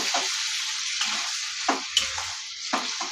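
Luffa in a pan with poppy seed water, stirred with a spatula: several distinct scraping strokes over a steady close sizzle, irregularly spaced, with no talking.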